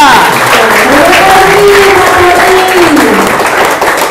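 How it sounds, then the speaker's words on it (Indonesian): A school talk show audience at SMP 5 Denpasar breaks into dense, steady applause that fills the room for the full four seconds, with a few voices rising through the clapping. "Tepuk tangan semuanya."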